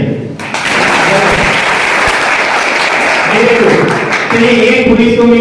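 A classroom of children in a village in Pratapgarh, Uttar Pradesh, breaks into loud, dense applause that runs on steadily, with voices and tonal shouts rising over the clapping near the end.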